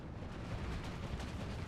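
A Bofors 40 mm gun fires in a video game, heavy booming reports thumping in a rough rhythm against a dense rumbling battlefield backdrop, fairly distant and muffled.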